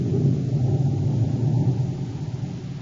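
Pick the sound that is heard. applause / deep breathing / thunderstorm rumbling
thunderstorm rumbling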